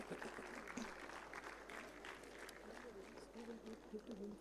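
An audience at a hackathon closing ceremony claps under a busy hall ambience, the applause quiet and distant, with some voices and murmur mixed in.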